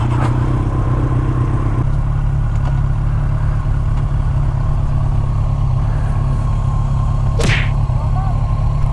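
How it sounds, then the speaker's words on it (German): A red tractor engine rumbles steadily as it approaches on a road, a continuous low drone with a brief sharp swish near the end. "Da kommt ein roter Traktor."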